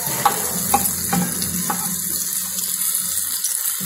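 Roasted tomatoes and ground spices (red chilli, coriander, turmeric) fry in a pan with a steady close sizzle, broken by scattered clicks and scrapes of stirring.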